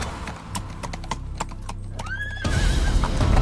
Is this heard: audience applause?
no